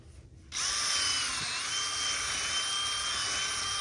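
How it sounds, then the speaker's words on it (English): A steady, high-pitched mechanical whine of a powered auger drilling a hole in the ground starts abruptly after a brief pause and runs continuously, loud and close. "I'm gonna drill my hole."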